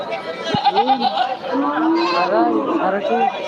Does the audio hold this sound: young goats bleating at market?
yes